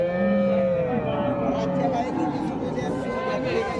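Cows low with drawn-out moos at a village cattle market in Sangola, close and continuous over a background murmur of voices and crowd noise.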